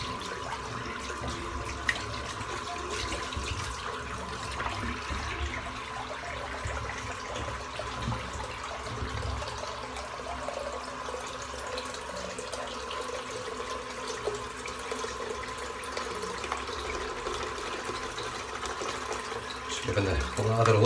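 Water runs steadily from a tap into a sink during a head shave, a soft, continuous hiss and splash that stays quiet and even throughout.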